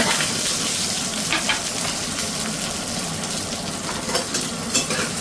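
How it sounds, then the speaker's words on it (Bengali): Chopped garlic and green chilli sizzle in hot rice bran oil in a kadai, a steady, close, crackling fry that runs without pause and with no voices. "এবার কড়াইতে আমি এই রসুন আর কাঁচা লঙ্কা কুচিটা ফোড়ন দিয়ে দেব"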